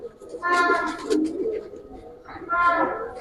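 Giribaz pigeons coo nearby in two throaty bursts, each swelling and fading, over a low background.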